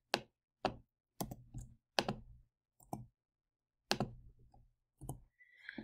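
Crisp, close computer mouse clicks, about eight isolated sharp taps spaced irregularly with silence between them, some in quick pairs.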